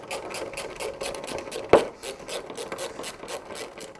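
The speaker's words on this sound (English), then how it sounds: "it is then simply a case of undoing these screws" Screws are undone on the trim of a Porsche 911 (992), giving a soft, steady rasping and rubbing with one sharper tick midway, faint and close.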